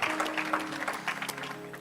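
A church congregation claps their hands together in worship, a brief burst of dense, overlapping applause heard from within the room.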